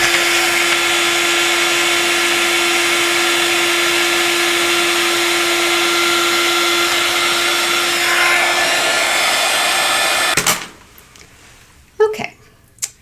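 An electric heat tool blows loudly and steadily for about ten seconds while melting embossing powder for a craft project, then cuts off, leaving a few faint handling clicks and bumps.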